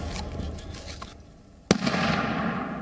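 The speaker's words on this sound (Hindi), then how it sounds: "यूक्रेनी सेना रूस पर मोर्टार दाग रही है।" Mortar fire in war footage of Ukrainian troops firing on Russian positions, with a single sharp blast cutting through a low background hush and followed by a lingering rumble.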